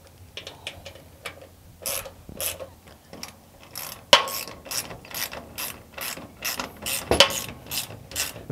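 A hand ratchet clicks in repeated bursts while tightening bolts with fender washers to mount a Badland ZXR 5000 winch on a car trailer deck. The quick pawl strokes are close and clear, with short pauses between runs and no talking.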